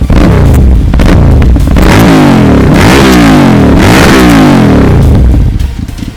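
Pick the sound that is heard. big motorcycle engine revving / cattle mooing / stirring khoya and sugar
big motorcycle engine revving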